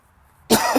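A single harsh cough bursts out after a short quiet stretch, close and loud, with a rough throaty rasp.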